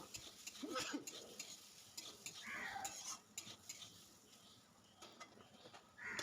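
Boiled potatoes frying with turmeric, a quiet sizzle under repeated spatula scrapes and metallic pan knocks in uneven bursts, close but faint, with no one speaking.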